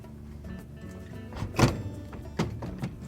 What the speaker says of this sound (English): Push it back until you hear those locking tabs snap in place